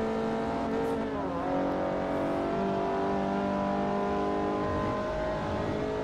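Racing car engine in Forza Motorsport 4, a steady loud drone with harmonic whine that dips and rises as the car shifts, continuous for six seconds with faint tire noise.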